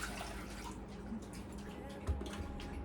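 Water poured into a pot for rice pilaf, a continuous splashing, running-water wash with a faint dripping edge and one small knock near the end.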